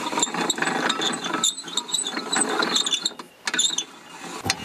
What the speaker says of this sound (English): So now we've got a second winch and this is going to help us lower it down.